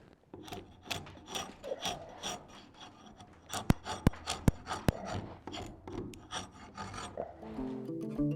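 A hand tool rasps and scrapes bark off old hand-hewn wooden beams, about 150 years old, in repeated rhythmic strokes with a few sharp clicks midway, close and moderately loud.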